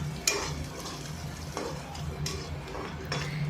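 Turmeric and salt being fried and stirred in a pan, a soft sizzle under repeated scraping and tapping of a spoon against the metal at close range, no talk.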